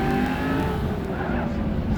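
A Corvette race car at a hillclimb event drives through the timing lights with a loud, sustained engine roar and shifting pitch, with a commentator's voice faintly underneath.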